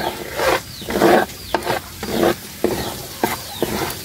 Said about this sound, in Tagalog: gisa na natin yung bawang